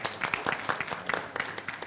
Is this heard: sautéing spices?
no